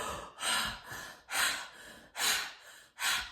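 Forceful fire-breathing exercise: four strong, rhythmic breaths pushed in and out through the nose, close and clear, each a sharp rushing puff separated by short pauses.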